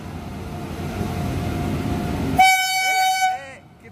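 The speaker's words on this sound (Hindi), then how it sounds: "तो हम लोग की ट्रेन आ गई है" A train rumbles steadily nearby as it arrives, then a loud, piercing horn blares for about a second before fading with the rolling noise.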